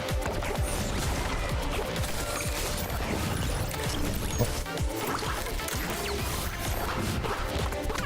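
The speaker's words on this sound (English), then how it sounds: "Neighbors making a ton of noise for some reason. I don't know what they're doing." Loud, continuous clattering and banging from neighbors, like a desk being smashed, with dense crashes and mechanical rattles running through the whole stretch without pause.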